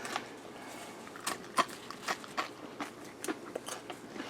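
Crisp bites into crunchy bacon, followed by a few quiet chewing crunches, close to the ear in a quiet kitchen with no talking.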